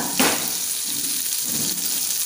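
Fish pieces fry in oil in a pan for a Mangalore-style pepper dry, giving a steady moderate sizzle with a couple of brief louder sputters.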